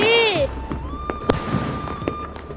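A cartoon rocket firework launches during a Diwali celebration: a rising whistle, then scattered sharp pops and bangs, with voices throughout.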